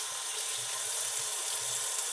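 Tap water runs steadily onto paper towels being wetted in a classroom plant lab, a continuous hissing splash at close range with no talking.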